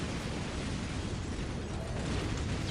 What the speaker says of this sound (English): All the grenade launchers blasting apart those tank busters.